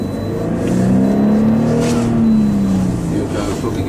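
A car accelerates along a test stretch toward a cone during a braking test, its engine note climbing steadily and loud and close for a few seconds.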